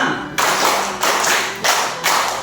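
Children in a grade 4 elementary classroom clap in rhythm on command, sounding as a few loud, broad group claps spaced about two-thirds of a second apart, close and alone.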